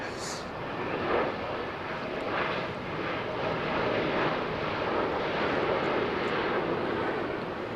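Airbus A380 engines at Heathrow Airport give a steady, loud jet roar that fills the whole clip, with a voice talking over it and wind buffeting the microphone.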